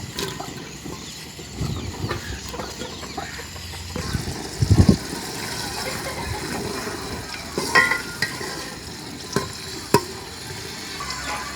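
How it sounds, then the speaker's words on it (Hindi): Chopped onions frying in hot ghee in a pan for tori ki sabzi, a steady low sizzle with occasional stirring clatter and a few louder scrapes, no talk. "अब हम इसमें कटे हुए प्याज डालेंगे।"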